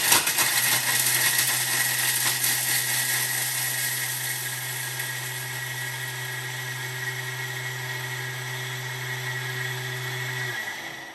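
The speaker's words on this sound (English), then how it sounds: "I love grating Parmesan or any cheese in my Thermomix" A Thermomix TM7 grates 100 grams of Parmesan cheese, a loud high whirring with rattling chunks hitting the bowl, running steadily for about ten seconds before the motor stops and winds down; close and alone.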